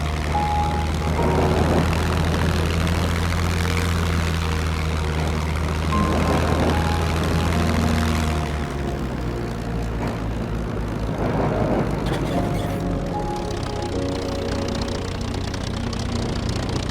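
Propeller aircraft engine in the SCUM video game taking off, a loud steady drone with low harmonic tones that shifts pitch and thins partway through, continuous and close throughout.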